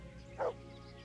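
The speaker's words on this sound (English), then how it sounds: "Dog is just happy." A dog in the video game Kingdom Come: Deliverance gives one short yip or whimper, brief and fairly faint over a low steady game background.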